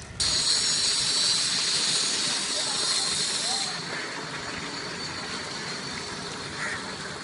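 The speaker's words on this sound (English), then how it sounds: "Train station, like King's Cross." A loud steam hiss at a train station, steady for several seconds and then dropping in level, with a continuous background rush that suggests a large, busy hall.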